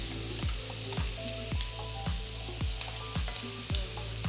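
Unsalted butter sizzles and fries in a pan, a steady close crackle broken by regular soft scraping strokes about every half second as it is stirred.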